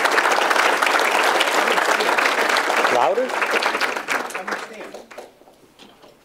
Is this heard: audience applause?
yes